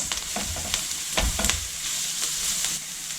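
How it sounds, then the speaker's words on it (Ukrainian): Chopped onion and carrot fry together in a pan for a pumpkin cream soup, giving a steady close sizzle broken by a few sharp spatula scrapes and clinks against the pan. "Далі додаю морку. Також обсмажую все разом."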